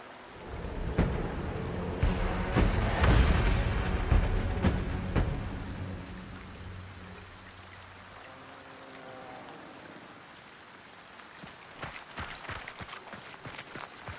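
Heavy rain falls steadily in a rainy map of the shooter game Hunt, while a deep rolling thunderclap swells and slowly fades, then sharp ticks and knocks of gameplay follow.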